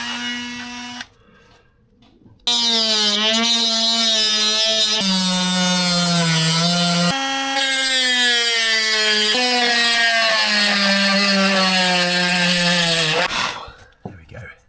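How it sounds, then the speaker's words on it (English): A Dremel rotary tool grinds out epoxy filler on a Mirror dinghy, a loud, close, high whine that shifts in pitch as it bites into the surface, running steadily after a brief pause near the start and cutting off at the end. "Got my Dremel for that."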